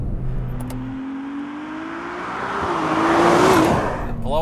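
A Ferrari 296 GTS engine revs up through a chicane, its rising whine and growl swelling loud and close before a turbo blow-off hiss and a fading, falling note.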